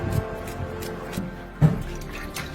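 Raw broiler chicken pieces are rinsed in water with soft sloshing and dripping, punctuated by a sharper splash about halfway through, close and moderately loud.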